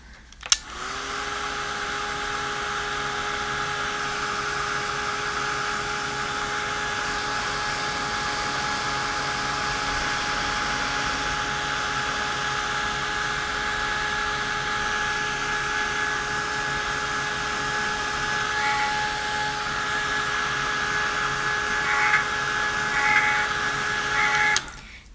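A hair dryer runs steadily and close by for the whole stretch, drying a wet Derwent Inktense pencil background on paper, with a constant whirring hum and airy hiss.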